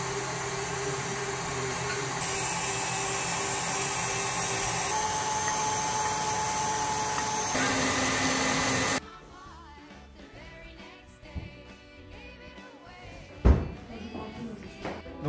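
Electric mixer whipping egg whites with sugar into meringue, a steady loud whirring hum with speed steps, then stopping abruptly, followed by quieter kitchen clatter and a sharp knock.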